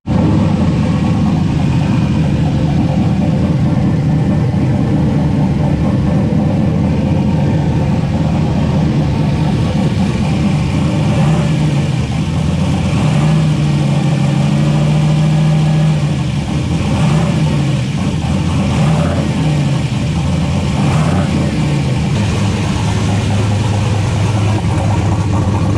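Turbocharged LS-engine truck running at 10 psi of boost, loud and close throughout, with a steady drone and repeated rising revs as it drives, with no talking.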